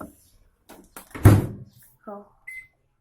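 Microwave oven being handled while cooking Maggi Yippee noodles: a door clunk and short beeps amid clatter, with a person talking nearby.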